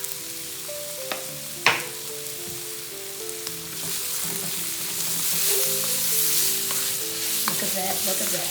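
Spanish mackerel fries in a pan and is stirred, giving a steady, close sizzle that builds over several seconds, with scraping stir strokes and a sharp clink early on; a voice speaks briefly over it.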